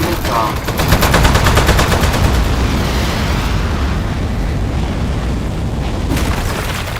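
Rapid, sustained gunfire in the video game Aperture Desk Job, a loud continuous barrage of shots with booming blasts layered together, filling the whole stretch with little let-up.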